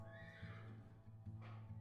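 A horse at the stables in the game Love & Fool's Gold gives a soft whinny and snorts, with faint hoof-like clops, heard alone at low level.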